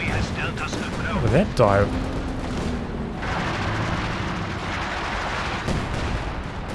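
Artillery barrages from paired Werfer rocket launchers and a Howitzer in Company of Heroes 2 rumble and crack in scattered bursts across a 2v2 battle, under steady commentary from a talking caster.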